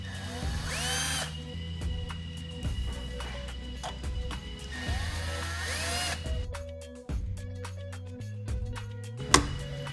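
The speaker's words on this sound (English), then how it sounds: "Make sure you get these screws all started before you tighten any of them down." A power drill whirs in repeated bursts, driving screws while an LED Helios light driver is being reinstalled, with short pauses between the loud runs and some clicking handling noise.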